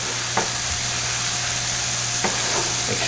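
Chicken for cacciatore sizzles and crackles steadily skin-down in a hot pan, loud and close, with a couple of brief clinks of stirring.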